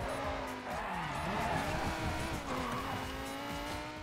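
Car skidding with tire squeal and a light bump during a Midnight Club Los Angeles racing game, a steady engine drone under wavering skid tones, loud and close with no talk.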